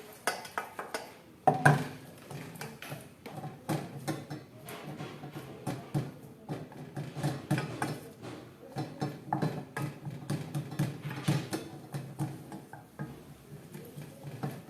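Caramel and walnut brittle being stirred together in a bowl, with steady scraping and clinking of a utensil against the bowl, soft, continuous and irregular, close up, with no talking.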